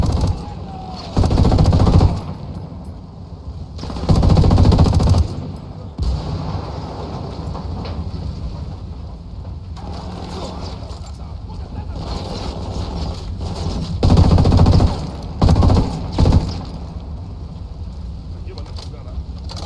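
Submachine gun fire in the Ghost Recon Wildlands video game, sounding as several loud, short bursts separated by quieter stretches of wind-like background, with voices speaking around the shooting.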